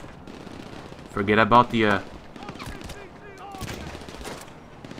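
Machine gun fire in Grand Theft Auto Online, a loud dense burst of rapid shots lasting about a second, followed by quieter scattered game effects under a voice.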